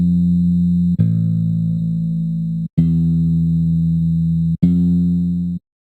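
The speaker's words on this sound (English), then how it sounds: "now I'm going to hear the bass" Synth bass notes played from a MIDI controller: three sustained, steady low tones held for over a second each, separated by brief gaps, with sharp clicky attacks and no other sounds.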